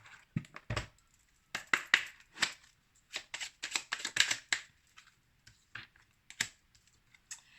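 Oracle cards being shuffled by hand, heard as a series of close, crisp riffling bursts and taps in uneven clusters, with brief pauses between them.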